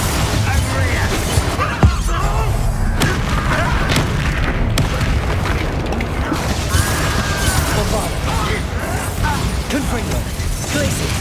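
Bombarda explosion spells and other combat effects in Hogwarts Legacy, a loud, continuous barrage of booms, cracks and clanking mechanisms with overlapping game sounds and voices.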